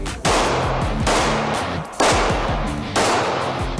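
Rapid pistol fire from a Glock shooter on a backup-gun competition stage, loud sharp reports in quick strings, each burst sounding like fast continuous shooting with brief pauses between volleys, no talking.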